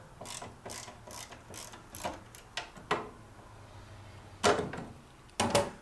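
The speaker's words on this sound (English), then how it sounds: "I've got the vice grips on there, so we're just going to go ahead and take these off." Vice grips working bolts loose from the spare tire carrier of a 1943 Willys MB, giving a run of sharp metallic clicks and ratcheting taps, close and fairly loud, with two stronger clanks near the end.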